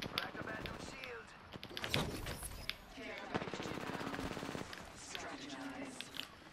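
Automatic gunfire rattles in Apex Legends, rapid bursts of sharp shots with scattered impacts, moderately close and mixed with a person talking over the action.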